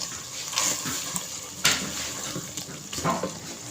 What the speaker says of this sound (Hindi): इसमें पानी जितना लगाना है वो भी आपको दिखाते हैं साथ साथ।